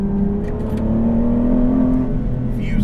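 A huge-displacement V12 in an Aston Martin V12 Vantage S with a manual gearbox drones steadily from inside the car, a loud, smooth, rising engine note that holds throughout.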